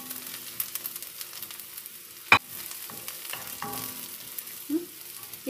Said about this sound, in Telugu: ఆనియన్ ఇలా కొంచెం గోల్డెన్ కలర్ వచ్చిన తర్వాత ఈ 4 పచ్చిమిరపకాయలు కొంచెం కట్ చేసుకుంటాం కదా,